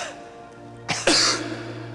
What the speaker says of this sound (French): Voilà, cette action de tousser est permise grâce au transverse.